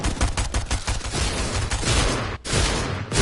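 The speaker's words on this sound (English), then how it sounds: "Oh, they're shooting me! They're shooting me!" Dense gunfire in a video game, a sustained fusillade of rapid shots aimed at the player, loud and continuous for about three seconds with one brief gap near the end.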